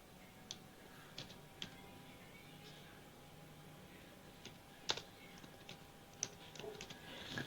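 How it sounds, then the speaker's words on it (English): Sparse keystrokes on a computer keyboard, a handful of faint, irregular clicks over a quiet room hum with a steady tone in the background. "so you can type Fatehpur Sikri"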